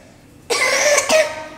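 A child coughs twice in close succession, loud and near, with no talk over it.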